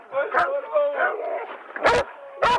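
Police dogs bark and yip in short close bursts during a tense street confrontation, mixed with raised voices and a few loud sharp bangs.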